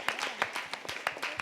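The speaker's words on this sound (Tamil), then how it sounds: "எல்லாருக்கும் பலத்த கைத்தட்டல் கொடுங்க" An audience at a college literary festival debate claps, a dense stretch of applause with sharp individual hand claps over a background murmur.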